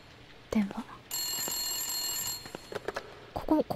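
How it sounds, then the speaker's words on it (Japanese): A telephone rings inside the psycho-horror video game Moonlight Syndrome: a steady electronic ring lasting about a second, with a voice speaking briefly before and after it. "電話。"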